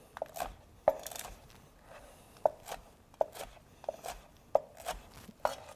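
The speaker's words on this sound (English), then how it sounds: "we'll dice this up into nice even pieces that will fry up nicely for our fresh croutons for our salad" A knife dices bread into cubes for croutons on a cutting board, giving a series of crisp, irregular chops spaced about half a second to a second apart, close and fairly quiet.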